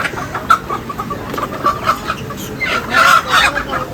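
A rooster at a poultry market clucking in short repeated bursts close by, with a livelier run of clucks near the end, over a busy market murmur.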